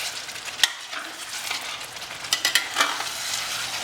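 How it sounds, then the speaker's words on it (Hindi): Boiled chicken being stirred into cooking masala for a tomato chicken curry, a continuous sizzle of frying with scattered scraping clinks of a spoon against the pan, close and clear. "अब इसे अच्छा मिक्स कर लेंगे मसाले में"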